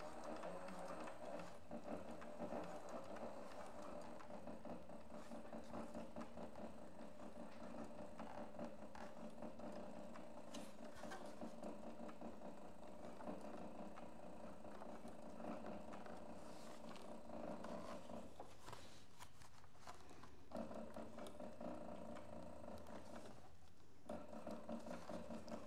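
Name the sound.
sewing machine stitching thick leather seams of a crossbody handbag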